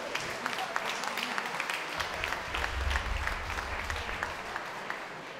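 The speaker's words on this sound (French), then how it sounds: "je vous propose de tous vous applaudir, parce que vous êtes tous là" An audience at the opening of a ceremony claps steadily, a full, even round of applause with low murmurs and a brief voice underneath.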